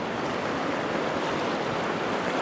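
Continuous broadband rush of fast-flowing river water around a kayak at Nameri National Park, loud and close with wind buffeting, no voices.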